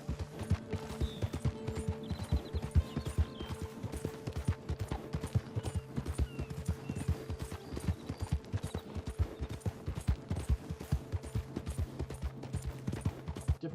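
Horse hooves clip-clop at a steady walk in the video game Red Dead Redemption 2 Online, producing an even, continuous patter of hoofbeats with a low ambient hum beneath.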